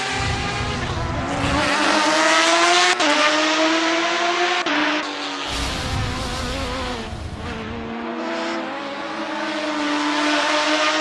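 Porsche 911 RSR race car engine in a racing video game at Circuit Zandvoort, a loud continuous rumbling drone rising and falling in pitch through gear changes, close and dominant throughout.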